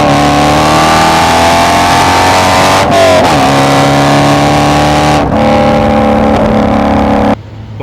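A car engine revs loudly and continuously, pitch climbing and dropping through several throttle changes before cutting off abruptly near the end.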